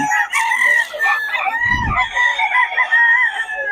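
Gamefowl chickens cluck and call close by in a busy, continuous chorus at a poultry farm, with a short low thump partway through.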